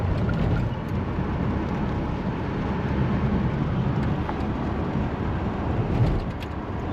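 A car on the road, recently fitted with rear drum brakes, cruises at about 45 mph with a steady, continuous low rumble of engine and tire noise heard from inside the cabin.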